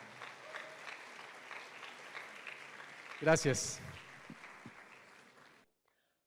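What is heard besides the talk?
church congregation applause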